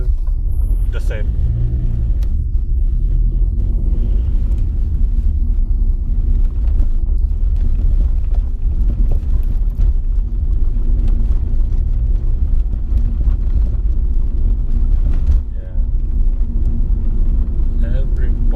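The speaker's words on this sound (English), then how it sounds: "Every part of this car makes noises." Loud, steady low engine rumble inside a moving 2000 VW Passat B5 1.9 TDI diesel, with constant road and cabin noise and occasional rattles.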